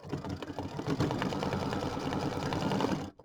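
An embroidery sewing machine stitches a design on a small bench buddy project, a close, fast, steady mechanical whirring that runs evenly before cutting off abruptly at the end.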